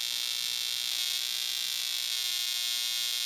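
A violet ray wand gives a steady, high-pitched electrical buzz that hums continuously without pause, harsh and constant from start to finish.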